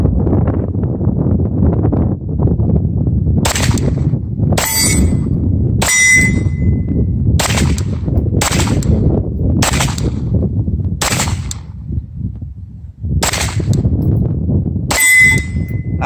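Sig Sauer P226 Legion pistol fired one-handed at an outdoor range: about nine sharp, loud gunshots with metallic ringing, spaced irregularly roughly a second apart over steady wind noise.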